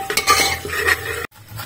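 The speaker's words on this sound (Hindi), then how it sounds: "फिर अच्छे से गोश्त को भूनेंगे।" Meat frying and being stirred with freshly pounded ground spices in a cooking pot, a close clatter of utensil against metal with a steady low sizzle, cutting off sharply near the end before a quieter hum resumes.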